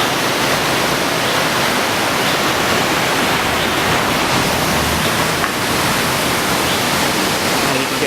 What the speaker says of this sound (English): I don't know if you can still hear me over the sound of the water or not